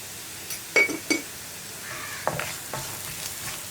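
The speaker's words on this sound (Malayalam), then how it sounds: "ഇനി മഞ്ഞൾപ്പൊടിയും ഉപ്പും ചേർന്ന് നന്നായിട്ടൊന്ന് മിക്സായി വരട്ടെ." Tomato chutney seasoned with turmeric and salt is stirred in a pan: a few sharp spoon-on-pan clinks and scrapes over a soft, steady sizzle, close and fairly quiet.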